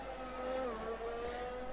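A race car at the Austria round of a racing league drones past with a steady engine whine that dips slightly in pitch as it goes by, fairly close and heard alone.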